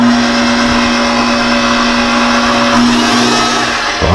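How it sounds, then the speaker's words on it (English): A KitchenAid stand mixer runs steadily in a home kitchen, a loud continuous motor whir with a constant hum and no talking. "But I'm going to use my KitchenAid and turn it on."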